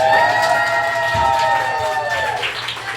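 A comedy club audience claps and cheers for the comedian's mom, a dense wash of applause with shouts and whoops at a steady moderate level, fading slightly toward the end.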